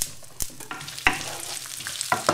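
Mushrooms dropped into hot olive oil in a wok, a few sharp clattering impacts over a rising sizzle, close and alone.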